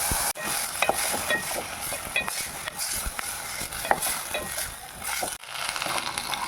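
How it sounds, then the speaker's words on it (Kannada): Shelled field beans (avarekalu) fry with tomato in a pan: a constant near sizzle and hiss under busy stirring, with scrapes, clicks of a spatula against metal and a few brief dips in the sound. "ತೋಡಿಸ್ಕೊಂಡಿರುವಂಥ ಅವರೆಕಾಳು ಹಾಕಿ ಅದನ್ನು ಸ್ವಲ್ಪ ಚೆನ್ನಾಗಿ ಫ್ರೈ ಮಾಡ್ಕೊಳ್ಳಿ"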